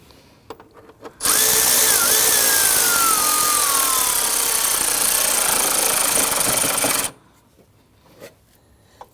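A power tool tightens a bolt while a dual radiator and condenser fan assembly is installed on a 2013-2019 Ford Police Interceptor, a loud continuous whirring burst of about six seconds with quiet handling before and after.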